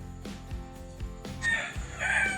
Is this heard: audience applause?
no